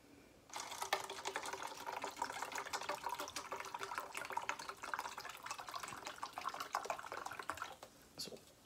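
Red Bull poured into a plastic Solo cup, a steady bright liquid splash and fizz starting abruptly and running for several seconds before tapering off, close and fairly quiet.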